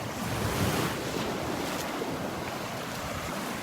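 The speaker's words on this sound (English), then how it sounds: "I love those sounds of the waves" Ocean waves break on the sandy beach at Delnor-Wiggins, a steady broad wash of surf with wind rushing across the microphone and no voices.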